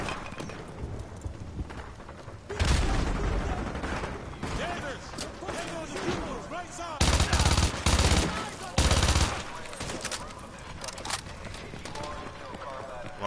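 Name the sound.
Vector submachine gun fire in Call of Duty video game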